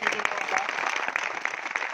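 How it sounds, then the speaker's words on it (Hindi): Crowd applause at a political rally, a dense, steady clatter of many hands clapping together throughout, fairly loud and close. "जोरदार ताली बजाइए"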